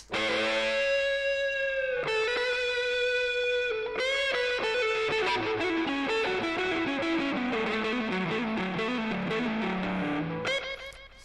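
A heavily distorted electric guitar with a delay effect switched on plays sustained notes and a busier run of picked figures. Repeats smear each note into the next, keeping it loud and continuous until a brief fade at the close.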